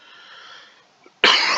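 A single sharp, forceful cough after a brief faint hum and near silence.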